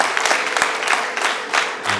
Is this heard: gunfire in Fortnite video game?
no